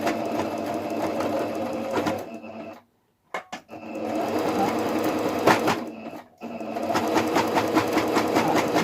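A sewing machine sews a zigzag stitch through thick layers of fabric for a mask, running in loud rapid bursts that stop briefly twice before starting again, close by with no talking.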